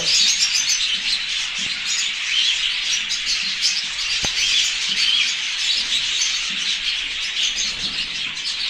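Pet birds chirp steadily and densely throughout, a constant bright twittering chorus close by with no talking.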